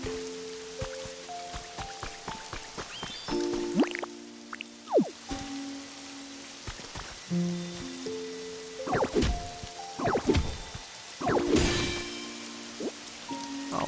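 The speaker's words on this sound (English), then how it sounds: "it's raining" Rain falling in the video game Pokémon Pokopia, a soft scattered patter of drips and splashes mixed with gentle game tones and a few brighter splashy bursts.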